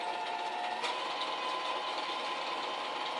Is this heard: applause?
no